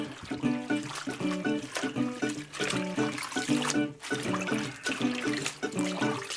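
Turnip greens being washed in water, a steady sloshing and splashing with constant trickling throughout, close and moderately loud.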